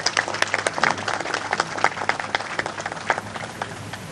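An audience applauds for Islamabad police officers with a burst of brisk, crisp hand clapping from a moderate crowd, evenly sustained and then easing slightly toward the end.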